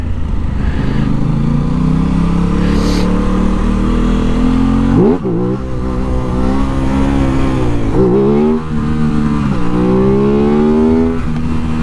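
An Aprilia RS 660 sport motorcycle accelerates hard in first gear, its loud engine note climbing steadily then dropping and rising again through several quick throttle pulls, close to the mic with wind noise and no talking.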